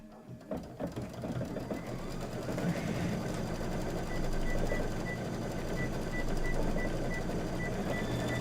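A sewing machine stitches the quilting on a table topper, its rapid mechanical chatter running steadily and closely with slight rises in speed.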